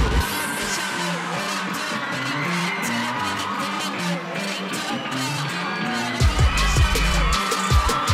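A crowd at a live event in Barcelona applauds and cheers in a dense, continuous roar that swells into louder bursts toward the end.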